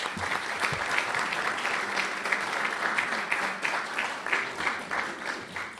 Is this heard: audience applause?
yes